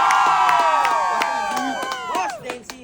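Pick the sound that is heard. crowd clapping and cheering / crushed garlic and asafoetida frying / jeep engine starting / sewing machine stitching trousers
crowd clapping and cheering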